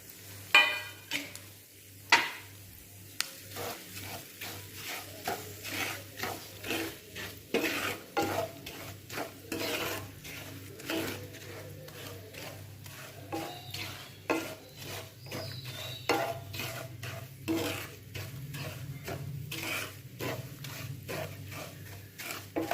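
Semolina (rava) roasting in a pan for sweet suji halwa, stirred steadily: continuous close scraping strokes with a soft sizzle underneath, repeating unevenly for over twenty seconds.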